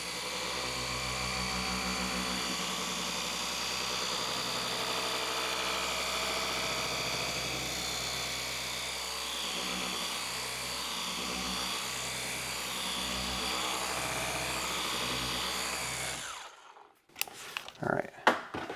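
A cordless car polisher runs steadily on painted bodywork during a one-step polish, a loud continuous whine and hum that cuts off abruptly near the end, followed by a few brief handling knocks.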